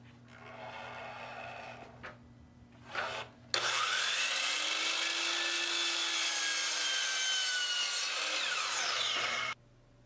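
A bandsaw cuts through plywood pieces nearby, a loud steady rasping whine lasting about six seconds after some brief handling noises, then stopping abruptly.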